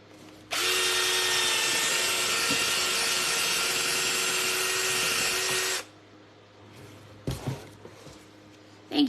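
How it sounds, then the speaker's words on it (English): A power drill whirs loudly and steadily for about five seconds while drilling holes in wood, then stops, followed by a few brief knocks and rustles. "go ahead and drill the holes for that one too."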